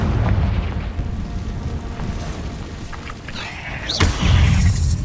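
Confringo fire spell blasting in a cave fight in the video game Hogwarts Legacy: rumbling low booms and crackling fire under continuous combat noise, with a sharp louder burst near the end.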